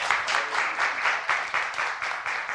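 Church congregation applauding and cheering in praise of God, a dense, loud wash of clapping with pulsing surges, steady throughout without speech.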